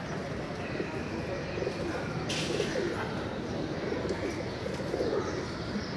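Teddy pigeons, a male and female pair, coo softly amid a dense, noisy loft background while someone talks over them.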